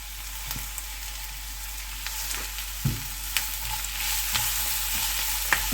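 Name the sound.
sautéing garlic paste with salt in a pan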